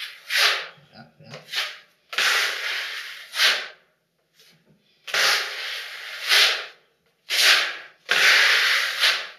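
A smoothing blade, 45 or 25 cm wide, drags filler plaster across a ceiling in a series of close, harsh scraping strokes, each a second or two long, separated by short pauses.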